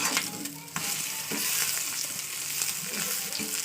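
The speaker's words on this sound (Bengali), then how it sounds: "চলুন ডিম ভাজা কমপ্লিট" An egg fries in a pan, giving a continuous close sizzle and crackle with faint scraping of a utensil, no one speaking.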